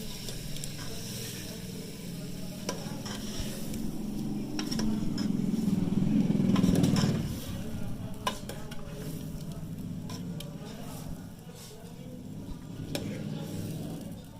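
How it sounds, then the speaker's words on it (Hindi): Masala and vegetables for a chicken and cauliflower dish fry over a wood stove, a steady close sizzle under repeated scraping stirs and metal clanks from a spoon against the pot, with no talk. "फटाफट मसाला भी भुनता रहता है।"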